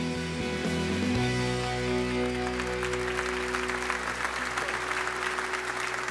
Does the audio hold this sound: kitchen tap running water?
no